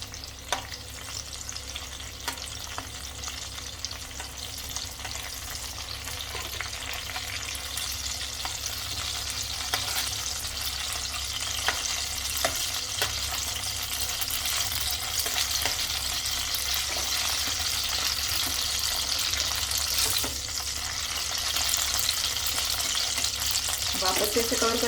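Potatoes and eggplant fry in a covered pan over a low flame, giving a steady close sizzle that runs unbroken for the whole stretch, with occasional faint clicks and no voices.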